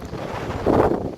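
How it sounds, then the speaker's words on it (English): Wind blows into the microphone outdoors in Carbon County, Wyoming, near Fort Steele, producing a low, rumbling buffet that swells toward the end of the brief stretch. "hang on, it's windy"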